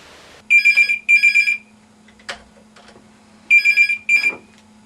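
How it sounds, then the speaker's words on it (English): Telephone bell ringing as a sound effect in an audio drama: two double rings, each a quick trilling burst, separated by a pause, close and clear over a faint hum, with a brief click between. "Think back to the day you received that phone call, Eddie."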